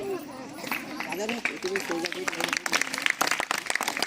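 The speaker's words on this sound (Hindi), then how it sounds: "जोरदार तालियां" Loud crowd applause and clapping at a Republic Day ceremony in Kasdol, Chhattisgarh, a dense continuous patter with background crowd chatter throughout.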